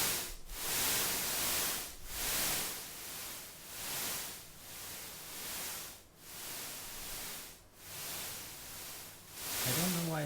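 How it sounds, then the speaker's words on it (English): White noise from an ambient sound app plays steadily as a broadband hiss that swells and dips in a slow rhythmic pulse, cutting out briefly every second or two, with no talk over it. "there's white noise-ish things going on"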